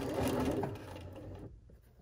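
A Bernina sewing machine stitches placemat pieces together, a fast close mechanical whir that runs for about a second and a half before stopping abruptly, leaving near silence.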